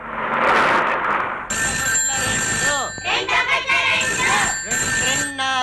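A telephone rings in a Telugu film scene, with repeated electronic ring bursts and a steady high tone, after a brief noisy lead-in; other sounds move underneath, and there is no clear speech.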